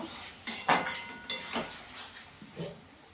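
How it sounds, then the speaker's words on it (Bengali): Green beans stir-fried in a pan for a potato and tangra fish curry, giving a few brief scraping and clinking knocks of a utensil against the pan, close and fairly quiet, with no talk. "শিমটা দিয়েও ভালো করে একটু কষিয়ে নেব"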